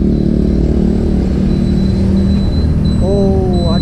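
A TVS Callisto scooter engine idles steadily with a low, even rumble throughout. A voice joins briefly near the end.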